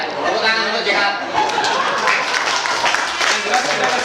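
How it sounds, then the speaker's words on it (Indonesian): An audience at an evening talkshow gathering claps and chatters for a short stretch, the applause dense and mid-distance with laughter and murmuring voices mixed in. "tepuk tangan untuk Jihad"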